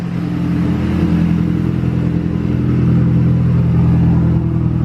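Mazda Speed6 engine running steadily just after starting, a close, loud, even idle hum with a faint rhythmic clatter underneath.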